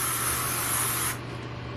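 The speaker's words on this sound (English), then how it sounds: "So I go in with the hairspray." Hairspray hisses steadily onto hair while it is styled for crimping, a close continuous spray that stops abruptly just over a second in, leaving quiet room noise.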